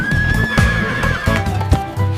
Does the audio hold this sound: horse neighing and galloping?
yes